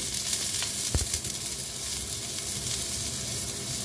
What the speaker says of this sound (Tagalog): Ayan, umuusok ng kawali. Lagay na natin itong garlic, onion.